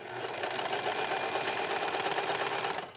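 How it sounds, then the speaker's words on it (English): A serger chains off thread with no fabric, its rapid even stitching hum running steadily and fairly close. "I can go ahead and make a thread chain because you always do that once you thread your serger."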